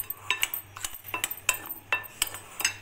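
Chicken marinade stirred with tikka masala in a bowl, a spoon clinking and scraping against the bowl in a quick irregular series of sharp taps and rattles, close and clear.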